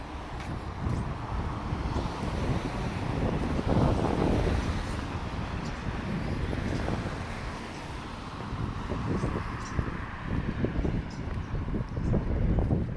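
Wind buffeting a handheld microphone during a street walk in Halifax's North End near Young Street and Bayers Road, loud continuous rumbling gusts with faint traffic underneath and no speech.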